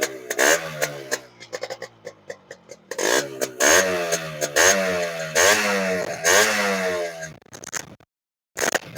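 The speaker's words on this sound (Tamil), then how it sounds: "இப்போ இந்த வண்டி பீட் சவுண்டு கேளுங்க எப்படி இருக்குன்னு பாருங்கள்." A restored 36-year-old Yamaha RX two-stroke motorcycle engine revs in sharp, close blips, rising and falling repeatedly before cutting off into silence at the end.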